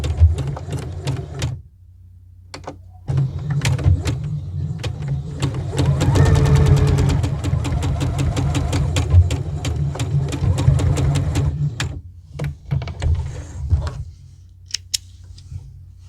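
Sewing machine stitching a seam on a dress, a steady close mechanical hum and rapid needle chatter lasting most of the stretch, with brief pauses and handling noises around it.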